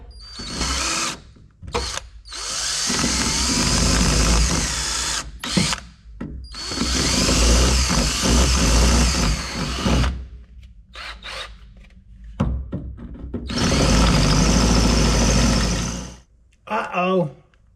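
A power drill bores out a bolt on the door of a 1965 VW Bug, whining loudly in several long bursts separated by short pauses, with people talking between them.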